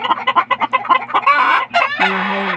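Caged chickens cluck in quick, loud, close bursts, ending in a longer drawn-out squawk.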